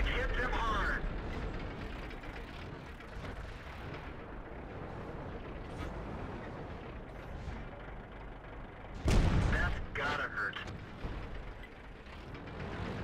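Tank gunfire in the World of Tanks game, shells striking an enemy tank's lower hull plate, with one loud close blast around the middle over constant mechanical game noise and a talking voice.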